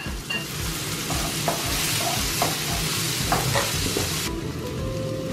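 Finely chopped greens sizzle with grated garlic and butter in a pan, a steady loud frying crackle with occasional stirring scrapes throughout.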